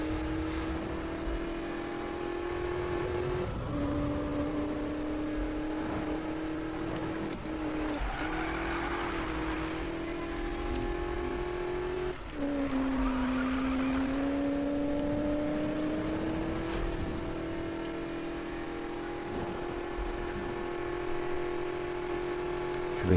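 A BMW's engine drones continuously while racing in Need for Speed, a loud sustained tone that rises and dips with gear changes and throttle, close and alone without talk.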